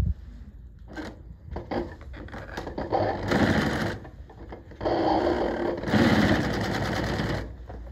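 A Consew 206RB-5 industrial sewing machine stitches with T70 unbonded nylon thread, running in two sustained, loud whirring bursts separated by brief pauses and stop-start clatter.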